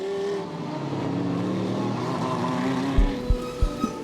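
Race cars at the Spa 24 Hours circuit running slowly under full course yellow, a steady engine drone close by, followed by several short low thumps near the end.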